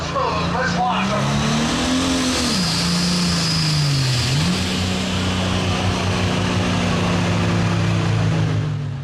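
A tractor pulling truck at a county fair pull revs hard and steadily, its engine pitch rising, dipping twice and then holding at a loud, sustained roar close by, with an announcer talking over it.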